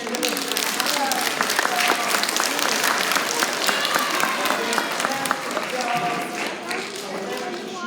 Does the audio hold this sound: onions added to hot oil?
no